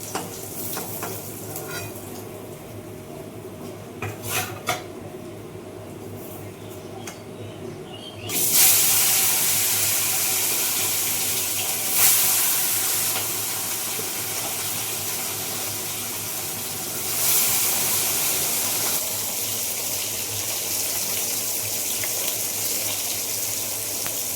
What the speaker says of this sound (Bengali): ওই তেলে একবার মাছগুলো ভেজে নিচ্ছি